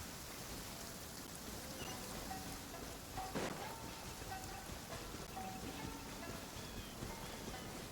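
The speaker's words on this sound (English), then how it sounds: "You guys can enjoy the pitter-patter of the rain." Steady rain falls in Genshin Impact, a dense even hiss of drops pattering throughout, with a brief louder crackle near the middle and faint game tones ringing above it.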